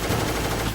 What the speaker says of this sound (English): He just shoots in short bursts, then just doesn't do anything.